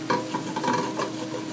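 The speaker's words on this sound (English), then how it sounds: "wood spatula to be able to take some of that glaze off of the base" A wooden spatula scrapes and stirs across the base of a hot pot, lifting a sizzling oxtail glaze, with soft rhythmic scraping strokes over a continuous low frying hiss.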